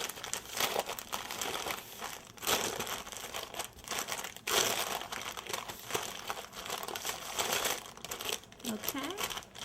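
Parchment paper crinkles and rustles steadily while a buttercream yule log cake is rolled up, close and busy throughout, with a voice talking intermittently underneath.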